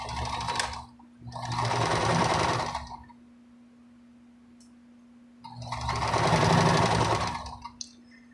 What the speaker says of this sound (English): I need to sew the top and the bottom together of these.